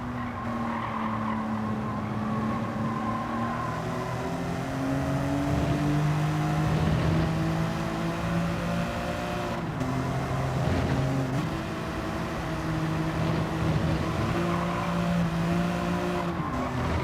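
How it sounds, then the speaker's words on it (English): Race car in Gran Turismo 7 braking hard with tyres gripping: a steady engine drone with shifting tonal whine and tyre scrub throughout, loud and continuous, with no voices. "Really feel the tyres gripping the road through there."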